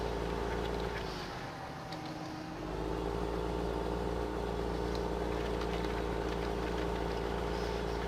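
Tractor engine in the video game Farming Simulator 15, a steady low drone running throughout that dips briefly under load near the start before resuming, loud and close with no talk over it.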